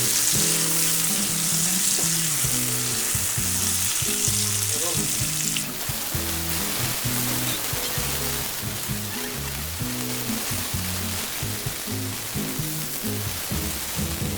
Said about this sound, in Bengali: আর একটু নেড়ে ছেড়ে নিব পটলগুলো